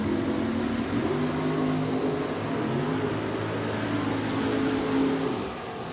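Junior dragsters racing at Richmond Dragway: small engines buzz and rise in pitch together at moderate distance, holding a steady drone before fading slightly at the end.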